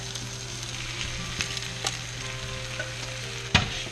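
Spinach cooking in a skillet until wilted: an even, close sizzle with a few light stirring taps and one sharper clack near the end.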